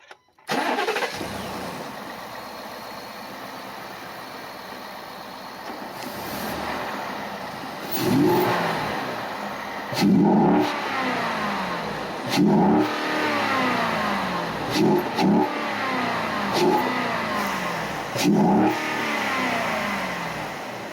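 A 2018 Ford F-150 pickup engine with a loud intake cranks and catches, settles into a steady idle, then roars through a series of sharp, loud revs spaced a couple of seconds apart.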